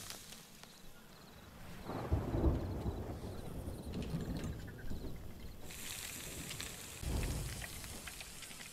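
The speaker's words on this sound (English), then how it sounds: "Oh, it's good, it's raining." Rain pattering steadily in the video game Sea of Thieves, soft and even, with a couple of louder surges that sound like distant rumbles.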